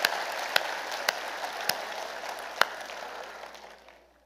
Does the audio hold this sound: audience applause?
yes